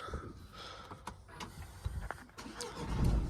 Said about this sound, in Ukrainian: Зараз ми автомобіль заведемо. Покажу, як працює двигун.